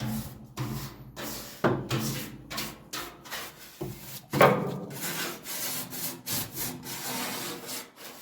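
A brush sweeps dust off the panel of a classic Mini pickup under restoration, giving irregular close scratchy strokes of varying strength with a few sharper knocks, and no talking.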